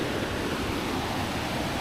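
A waterfall at Havasupai roars as a constant, dense rush of falling water, steady and loud throughout with no voices.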